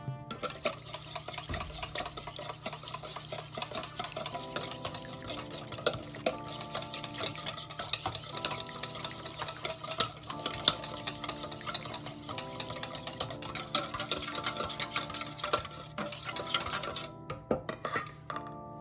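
A whisk stirs a melted mixture for carrot cake in a bowl, steady scraping and clinking continuing throughout at close range, with no talking.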